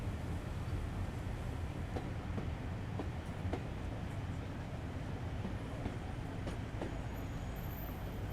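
A train departing a station in Train Sim World makes a continuous low rumble with faint periodic clicks of wheels over rail joints, steady and moderately distant, without talk.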